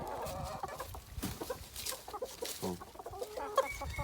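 Ornamental hens and roosters clucking and chattering in a coop, several birds calling in irregular bursts at close range.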